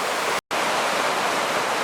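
Turbulent, boiling river water churning near a waterfall in the mountains, a dense, loud, steady roar of rushing water with one brief dropout.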